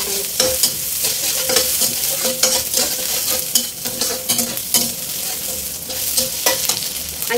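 Shallots and garlic stir-fry in a hot pan, giving a steady, loud sizzle broken by repeated scraping and stirring strokes, with no voices.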